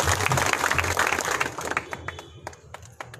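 Crowd applause at a Shiv Sena political rally in the Konkan, dense loud clapping that thins out into scattered individual claps over a few seconds.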